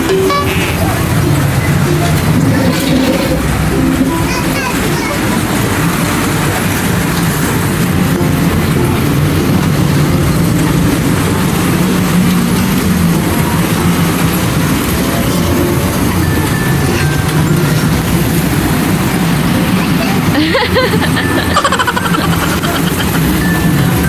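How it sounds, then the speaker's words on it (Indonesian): A steady, loud rumbling roar of a train rolling along rails continues throughout, dense and close, with a faint clank near the end. "awas ada kereta"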